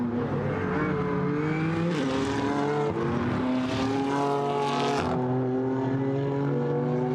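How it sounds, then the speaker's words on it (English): BMW GT4 race cars at Paul Ricard circuit, engines howling loud and close as they rise and fall through gear changes, with another car joining the roar before a shift near the end. "the BMWs that make this great distinctive engine note"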